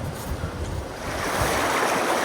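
Glacier-fed Patagonian mountain river, the Futaleufu, rushing toward the Pacific: a steady, loud broadband roar of churning water that swells slightly louder midway, with wind buffeting the microphone and no voices.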